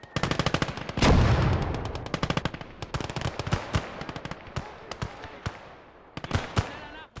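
Rapid machine gun bursts in the WW2 strategy video game Gates of Hell, loud repeated volleys of automatic fire with brief pauses between them, joined by scattered distant shots and explosions across the battlefield.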